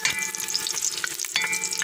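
Garlic sautéing in oil in a pan for squid adobo in coconut milk, a steady close crackling sizzle with light stirring scrapes throughout, no voices.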